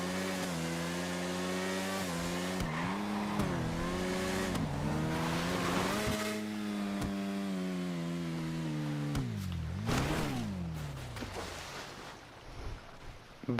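Motorcycle engine in the video game GTA V Online, loud and continuous, revving up and down with shifting pitch and a dip near the end, heard alone with no voices over it.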